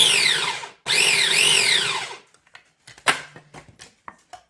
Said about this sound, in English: I love having this little mini prep food processor.